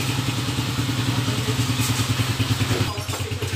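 A 19-year-old Honda TMX155 motorcycle idles with a pulsing, thumping beat close by, then pulls away at the end and the engine note fades, with no speech.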